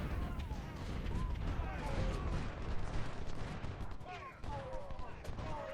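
Artillery firing exploding shells in Ultimate General: Civil War, a dense, continuous rumble of distant cannon fire and bursts under a steady battle din, with a talking voice over it.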